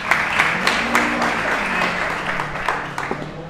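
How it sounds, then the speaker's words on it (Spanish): Audience applause at a talk on stand-up comedy as a narrative strategy, a steady wash of clapping that holds at an even level through the whole stretch, with a few louder claps standing out and faint voices underneath. "Muchas gracias y un aplauso para ti."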